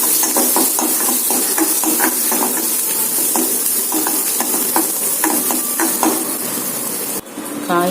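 Onions, green chillies and fennel seeds sauté in a pan for a vegetable chutney, making a loud, constant sizzle broken by repeated scraping stir strokes before it cuts off abruptly near the end.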